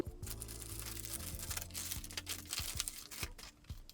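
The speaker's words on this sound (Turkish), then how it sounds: "Şu Trendyol'dan yaptığım alışveriş poşetini bir açalım birlikte." A Trendyol plastic shopping bag is opened up close, with continuous soft crinkling and rustling broken by small sharp crackles, quiet and with no talking.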